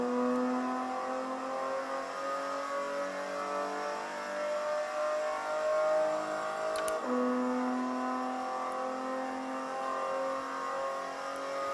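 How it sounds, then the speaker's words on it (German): A VW Scirocco race car at the Hockenheimring accelerates with a high engine whine that climbs through the gears, with one quick shift midway before it pulls hard again, heard from the car in continuous onboard running. "Das Auto gut verzögern, drehen, an den Körper ran und relativ gerade wieder raus beschleunigen."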